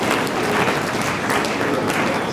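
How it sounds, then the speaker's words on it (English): Crowd applause at a public briefing, a dense, even patter of clapping that holds steady for a couple of seconds. "So may we all give ourselves a round of applause"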